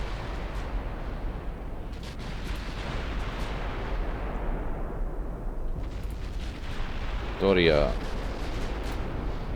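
Naval secondary guns, a mix of 6-inch and 4.2-inch, fire from Italian battlecruisers in the Ultimate Admiral Dreadnoughts game as a continuous low rumble of distant booming reports. A voice speaks briefly, and a sharper burst stands out near the end.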